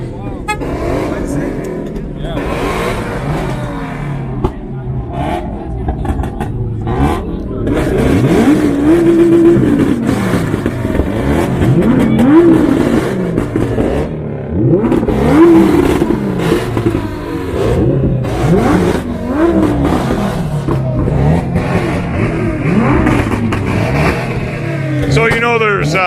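Import car engines revving hard at high RPM on a Woodbridge, Ontario street, producing loud, repeated rising and falling rev sweeps over steady road rumble across the whole stretch, with some voices in the background.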